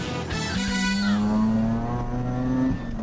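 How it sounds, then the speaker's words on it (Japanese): A car accelerates hard during a timed attack at Nikko circuit, the engine revving loudly and climbing steadily through a gear with a clear rising tone, close and continuous for the whole stretch. "かなり緊張気味の江原君からアタック開始"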